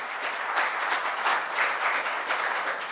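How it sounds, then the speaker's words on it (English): Audience at a women's leadership summit panel in India applauding and cheering, a dense, steady wash of clapping that fills the whole stretch without letting up. "can we have all the men give a big round of cheer"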